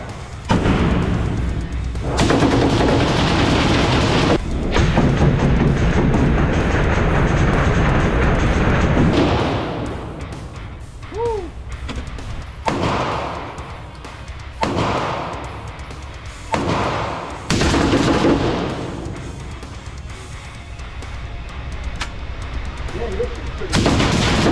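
A suppressed fully automatic AR-style gun fires in sustained rapid bursts at an outdoor shooting range, loud and close, with the later bursts broken into shorter strings of shots.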